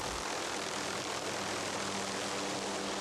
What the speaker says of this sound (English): Helicopters are used for a variety of jobs.